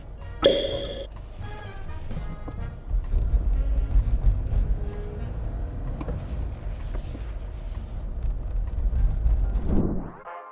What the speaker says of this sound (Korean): 악셀 페달 살살 밟습니다.